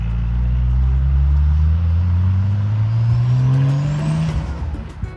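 A 1999 Honda S2000 driving close by: the engine note is loud and continuous and climbs steadily in pitch as the car accelerates, then eases off near the end.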